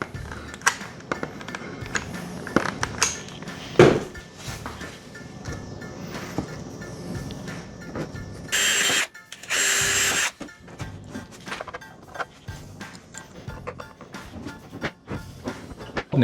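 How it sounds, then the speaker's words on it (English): Two short, loud bursts of a power drill boring into wood with a brad point bit while building an NES controller table, separated by a brief pause, with quieter workshop handling noises before and after. "now we're going to drill it with a brad point bit"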